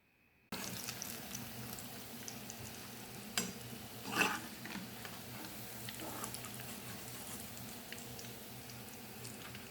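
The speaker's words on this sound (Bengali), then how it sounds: "আমি সবগুলো বড়া লাল লাল করে মুচমুচা করে ভেজে নিলাম।" Lentil fritters (bora) frying in hot oil give a steady, close hiss that runs through the clip, broken by a couple of brief clinks partway through.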